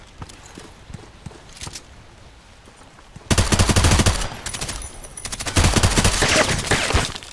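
Full-auto AN-94 Abakan rifle fire in the shooter game Contract Wars, starting with quieter distant shots and then breaking into two loud, sustained close bursts of rapid gunfire.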